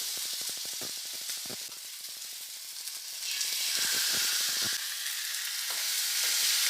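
Pre-cooked Goan-style pork chops searing in a hot, dry pan with no oil hiss and sputter continuously, swelling louder midway, with rapid crackling pops throughout and no voices.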